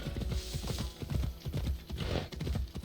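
Galloping horse hooves in Assassin's Creed Odyssey, fast loud clip-clop beats close by, running without pause and with no voices.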